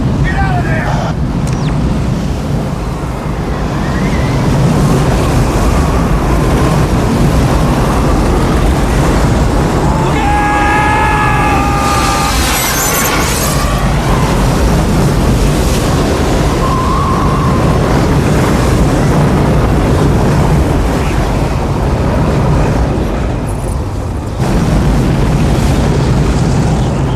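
A roaring tornado from the film Twister tears a truck away, a loud steady rush of wind and debris with crashing and metallic screeches midway, under a recapping voice.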